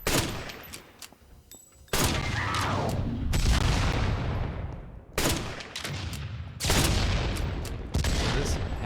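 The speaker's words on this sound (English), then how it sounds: "He's shooting explosives, as you can see." Explosions and gunfire from a steampunk shooter video game, with loud bursts of booms and rapid shots recurring throughout, separated by brief decaying lulls.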